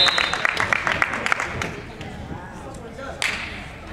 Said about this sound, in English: Hey, clap, clap